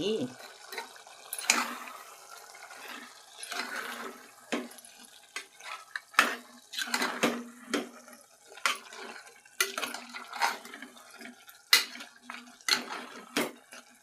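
A spoon stirs mutton and chana dal curry with turmeric in a pot, making scattered wet scraping and clinking sounds in irregular bursts, with a voice speaking between them.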